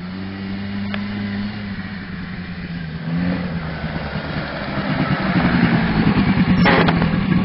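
A small 50cc motorbike engine runs with a steady buzzing drone that grows slightly louder toward the end, heard near and continuous.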